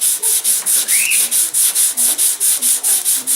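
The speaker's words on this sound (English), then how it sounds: "And then all we have to do is go in and sand this down." A model glider wingtip, part of an Aleda R series boost/glider kit, being sanded by hand with rapid back-and-forth rasping strokes, about four per second in an even rhythm, close and loud with no talking.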